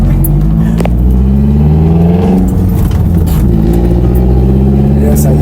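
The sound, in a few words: car engine revving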